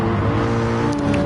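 Racing car engine in a PS4 racing video game, a steady mid-pitched drone held at speed, loud and continuous with a whirring tone throughout.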